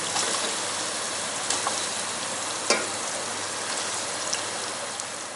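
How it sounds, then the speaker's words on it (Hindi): Mutton sizzling and frying in spices for a degi-style white pulao, a steady, dense close sizzle with a few soft clinks of stirring and no talk. "अब मैं गोश्त डाल के भूनूँगी।"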